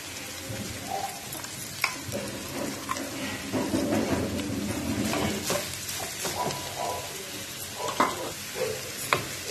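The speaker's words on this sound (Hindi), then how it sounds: "इसको हम फुल फ्लेम पे फ्राई करेंगे, नहीं तो फिर इसमें से पानी छोड़ देगा।" Cabbage and carrot frying over full flame with cumin and green chilli in a pan: a steady, close sizzle with scattered stirring clicks and scrapes. No one speaks.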